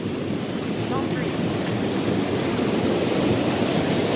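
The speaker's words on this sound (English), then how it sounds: "The water is flowing over the top of the weir." Storm water pours over the top of a flooded creek weir in a steady, dense broadband rush, loud and continuous with a gusty, wind-buffeted edge and no pauses.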